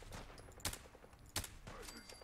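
Suppressed VSS rifle fire in Fallout 4 against a super mutant warlord, two sharp, distinct shots about a second apart over quiet game ambience, fairly faint overall.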